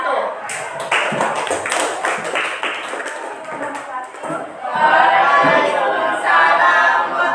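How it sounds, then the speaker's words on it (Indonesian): Group applause in a classroom teaching session, a burst of clapping from the class that rises toward the end and stays fairly loud, with talking mixed through it. "Oke, sekali lagi tepuk tangan untuk kelompok 1."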